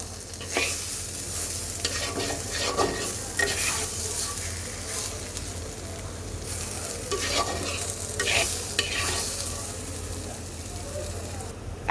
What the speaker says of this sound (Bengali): এইবার এই মশলাটাকেও সুন্দর করে কয়েক মিনিট একটু ভেজে নেব